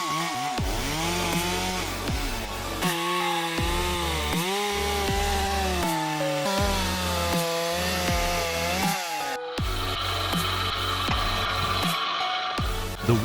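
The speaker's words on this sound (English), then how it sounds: "The saw's speed, stability, and ability to slice through wood fibers are all being pushed in real-world conditions." A GS651 chainsaw rips through wood, its engine loud and steady throughout with pitch rising and dipping as the bar bites and eases, including one brief break near the end.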